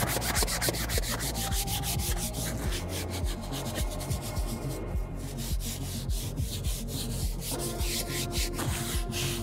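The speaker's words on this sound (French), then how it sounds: "Puis on va venir brosser le cuir" A seat brush scrubs back and forth over a leather car seat in a car interior, rapid rhythmic rubbing strokes close up and continuous, with no talking.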